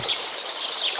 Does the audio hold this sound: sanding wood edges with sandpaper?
no